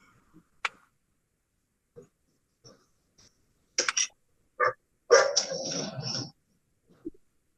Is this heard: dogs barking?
yes